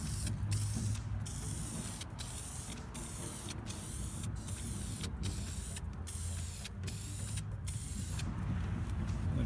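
Spray-can primer hisses in short bursts onto a Porsche 944 car body, with brief pauses between passes, close and steady throughout.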